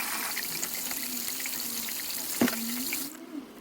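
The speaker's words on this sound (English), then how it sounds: "add some more cold water and mix it about." Cold water poured into a bucket of fabric dye, a steady close splashing trickle that runs for a few seconds with one brief clunk partway through before stopping.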